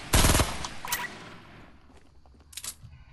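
Video game gunfire in an FBR match: a loud rapid burst of automatic shots at the start, then a single sharp shot and a later short burst over quieter background game noise.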